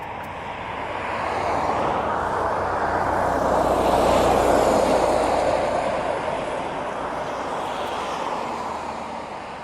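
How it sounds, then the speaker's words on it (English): A UPS cargo plane taxiing at East Midlands Airport, heard as a broad, steady engine roar that swells toward the middle and eases off again, fairly distant with no voices over it. "UPS looks like it could be taxiing."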